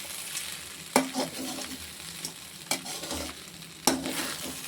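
Coconut rice being stirred in a hot pan over a low flame: a soft steady sizzle with a few distinct scraping and knocking strokes of the spoon at irregular intervals, close by and alone.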